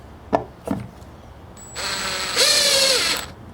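A Milwaukee 2602 cordless drill set to maximum torque, 24, whirs up after two brief knocks. Its motor pitch steps up as it runs for about a second and a half, close and loud, then winds down.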